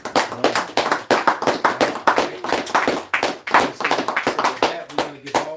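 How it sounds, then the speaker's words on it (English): Congregation clapping at a church service, a brisk rhythmic run of sharp hand claps repeated in quick succession throughout, with voices audible beneath them. "Hand claps, you know."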